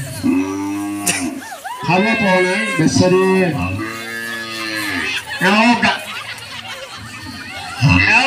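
A cow moos loudly and repeatedly in long, drawn-out lows close by, with a person speaking briefly between the calls.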